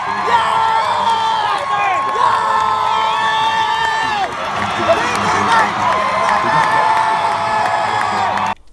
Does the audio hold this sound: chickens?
no